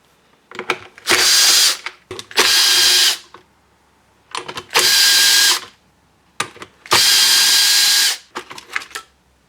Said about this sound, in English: now you need to remove 3 T27 torque screws on the recoil here